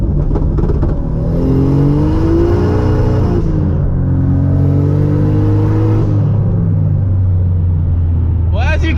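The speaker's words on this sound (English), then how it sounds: "we'll do an anti-lag pull" A turbocharged Toyota Supra accelerates hard in a sustained anti-lag pull, the engine note rising steadily through the gears with a dip at a shift. Loud and close, with road rumble underneath.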